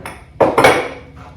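Ceramic butter dishes handled while thrift shopping at a Goodwill store, giving two close clinks of ceramic knocking together, then a fainter third clink, with no talking.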